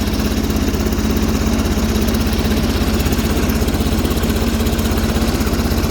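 Sears Suburban tractor with a Briggs & Stratton 20HP V-twin engine idles to warm its oil, a steady, loud, close low-pitched throb with an even pulsing rhythm and no talk.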